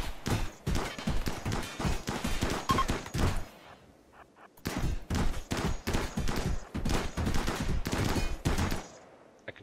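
Automated turrets firing in a bionic factory video game, rapid bursts of loud gunfire with a brief pause midway, then sustained volleys resuming to the end, no voices.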